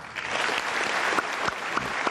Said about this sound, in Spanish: los aplausos eran largos en cada una de las ocasiones